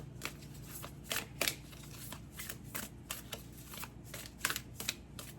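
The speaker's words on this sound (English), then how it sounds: "if I turn my cards over right" Tarot cards being shuffled and turned over during a card reading: a run of soft, papery riffles and flicks in irregular bursts, close up and quiet, with no talking.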